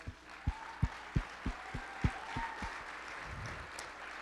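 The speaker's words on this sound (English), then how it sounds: "Can we give ourselves a round of applause?" An audience at the GIPA Celebration 2022 claps, sharp separate hand claps landing in a quick irregular rhythm that thin out toward the end, fairly close over a quiet room.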